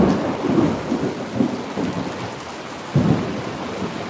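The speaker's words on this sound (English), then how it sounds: "I hear Mr. Thunder up there." Thunder rumbles overhead during an approaching storm with rising wind, low rolling swells of sound recurring several times over steady rain-like hiss, with a strong clap near the end.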